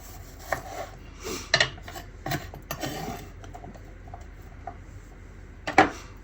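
A sharp knife slices and rasps through peppers on a cutting board in a series of irregular scraping strokes, with a louder cut near the end.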